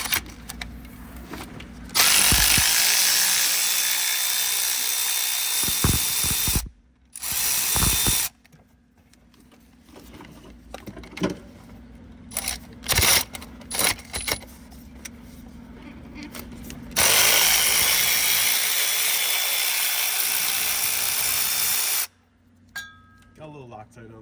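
Ratchet loosening the side bolts on a Ford diesel truck transmission, heard as bursts of loud mechanical clicking and whirring that start and stop repeatedly, with quieter gaps of shop noise between them.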